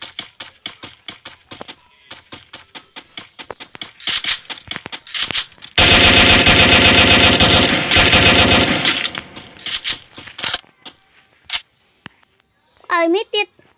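Automatic gunfire in the mobile battle royale game Free Fire, with rapid bursts building into a long loud sustained volley midway, then scattered shots, with someone talking in between.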